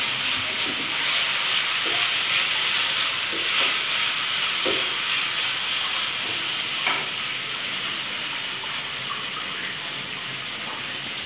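Cut carrots for spring roll filling fry in a pan, a constant loud sizzle broken by scraping, clacking stirs of the utensil, with no voices.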